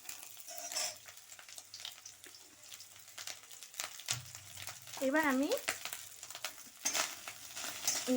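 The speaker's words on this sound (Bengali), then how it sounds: "নারকেলটা একটু ভাজা হোক" Grated coconut fries in oil in a pan, sizzling and being stirred in bursts. A person speaks briefly over the cooking sounds.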